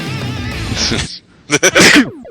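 A single loud sneeze up close, followed after a short pause by a few sharp breathy bursts.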